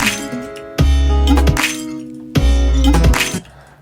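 Layered snare samples with a glass-breaking layer in Ableton, played within a track: two loud shattering hits over a deep bass and tonal backing, each with a long ringing glassy tail.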